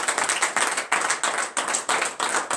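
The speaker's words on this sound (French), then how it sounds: "Donne l'acclamation à Jésus" Congregation clapping at a morning prayer service, rhythmic group clapping in steady bursts, loud and close, with no talk.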